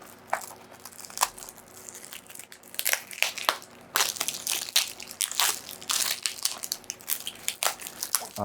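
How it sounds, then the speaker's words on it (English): Plastic shrink wrap on a board game box being carefully torn open, with close crinkling, crackling and tearing bursts in irregular clusters and short pauses, no talking. "Let's see if I can carefully open the plastic."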